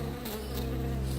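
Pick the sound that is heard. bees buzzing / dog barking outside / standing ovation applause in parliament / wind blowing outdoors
bees buzzing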